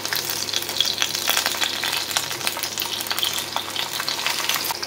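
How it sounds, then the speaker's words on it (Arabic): Potatoes sauté in a tray of vegetable oil with a dense, steady sizzle and crackle that runs unbroken throughout, loud and close, with no talking. "الصينية اللي بدي أطبخهم فيها رح أحط فيها معلقتين زيت نباتي، شوح حبات البطاطا"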